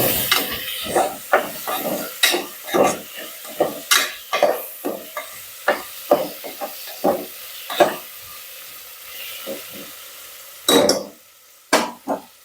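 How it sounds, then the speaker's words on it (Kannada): Tomato fries in a hot pan and gets stirred, a spatula knocking and scraping in regular strokes over a constant hissing sizzle, close and fairly loud with no voices. "ಟೊಮೆಟೊ ಹಾಕೊಂಡು ಕಲಿಸ್ಕೊಡಿ ಮತ್ತೆ"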